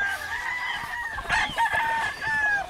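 A black rooster crows loudly and close by in a farmyard, a drawn-out call with a couple of shorter clucks and bursts of other fowl noise around it.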